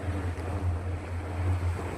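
Low rumble of waves washing against a boat out on the water at night in Dubai, a steady churning wash with wind noise on the microphone, continuous and fairly close, with no voices.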